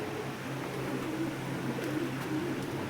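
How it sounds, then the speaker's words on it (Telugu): Pigeons coo softly and repeatedly inside the Valmiki Caves at Tadipatri, a steady low murmur of several birds with a hollow cave feel and no talking. "పావురాలు అయితే చాలా ఉన్నాయి."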